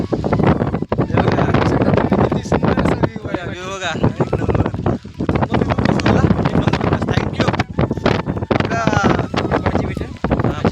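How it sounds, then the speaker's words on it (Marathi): Strong wind with light drizzle in a Konkan forest buffets the microphone steadily throughout, with people talking loudly over the gusting roar; rain is not distinctly audible beneath it. "हवा किती आहे, पाऊस पडते रिमझिम रिमझिम."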